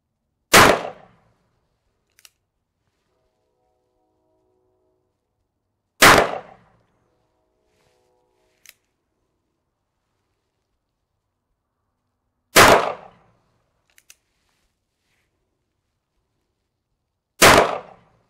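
Four loud, sharp gunshots from a Ruger Blackhawk revolver firing HSM 10mm rounds outdoors in cold weather, evenly spaced with long silences between and faint clicks following some shots.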